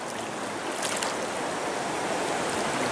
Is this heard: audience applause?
no